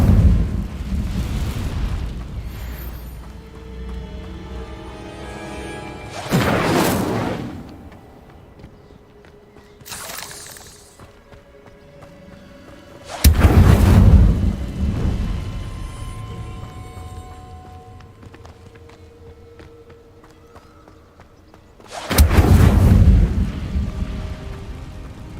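Incendio fire spells cast in Hogwarts Legacy burst out as three or four loud whooshing blasts, each a sudden roaring eruption that fades over a few seconds amid quieter game ambience and footsteps.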